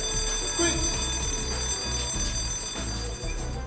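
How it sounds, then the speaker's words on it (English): A school fire alarm rings continuously, with a steady high electric tone over a rapid pulsing beat, close and sustained throughout with no speech. "Here's what you should do when you hear a fire alarm."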